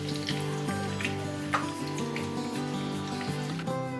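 Malvani chicken vade, hand-patted dough, fry in hot oil, a steady close sizzle and bubbling over a constant hum, with faint spattering crackles and no voices.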